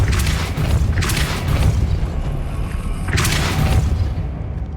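A Depulso spell blasts in Hogwarts Legacy, rendered as a rumbling boom over low, steady game ambience, with brief bright bursts recurring through the clip.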